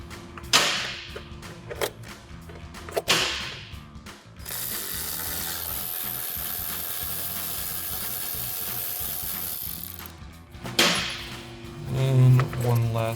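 A ratchet removing bolts from the ignition coils of a 2011-2016 Mustang GT, bursts of rapid pawl clicking at close range, then a long steady clicking run, with a voice speaking at the start and end.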